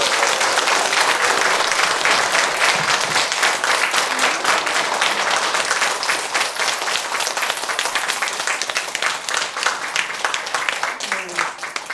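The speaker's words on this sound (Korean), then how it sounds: "더 큰 박수로 받아주세요" Audience applause after a Buddhist dharma talk: dense, sustained clapping from a crowd that holds steady for several seconds and then thins slightly near the end.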